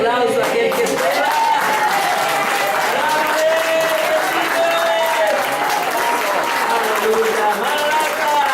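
Loud, sustained applause from a church congregation at a Spanish-language worship service, dense clapping running the whole time with raised voices calling out over it.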